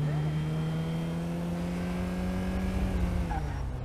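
A Honda Civic driving fast in the video game GTA 5, its engine holding a steady droning hum with a slight rise and fall, under conversation between people.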